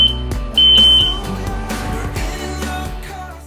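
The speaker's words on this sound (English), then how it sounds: "pushing the alarm button in the middle, making sure everything is in working condition" Two short, piercing beeps from an X-Sense smoke alarm being tested sound near the start over loud background music, then the music continues without beeping.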